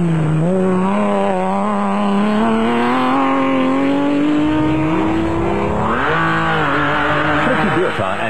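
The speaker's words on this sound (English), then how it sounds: "Barker and Kampfer were next away in the BMW M3-powered Barker Performance Products Land Rover" A BMW M3-engined Land Rover off-road race car pulls away at the start of the Sugarbelt 400 in South Africa, its engine revving up steadily through rising gears, loud and close, with a commentator talking over it.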